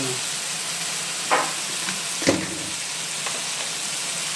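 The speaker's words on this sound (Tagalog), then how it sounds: "Para magisang mabuti ang papaya at ang chicken" Papaya and chicken sauté in a pan for Batangas-style tinolang manok, with a steady close sizzle, a few clinks from stirring, and no talk.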